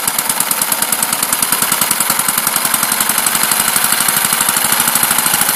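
Small single-cylinder carbureted model engine idling slowly at about 780 RPM, giving a close, loud, even train of rapid putting firing pulses with no talk.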